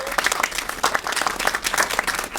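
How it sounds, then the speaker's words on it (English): Applause from an audience at a film panel discussion, a dense steady patter of many hands clapping at moderate distance, continuing evenly throughout with no voices. "A little round of applause for all of these talented people"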